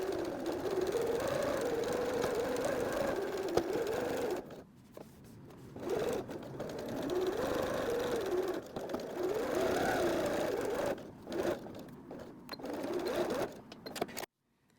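A sewing machine top stitches a fabric pocket on a library bag, working over a thicker corner. The motor whirs in steady bursts of stitching, broken by a few short pauses, close and fairly loud.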